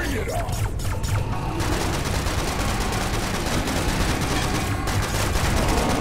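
Dual-wielded AK rifles firing full auto in the shooter Serious Sam: Siberian Mayhem, a dense, continuous roar of rapid shots with booming impacts throughout, loud and close.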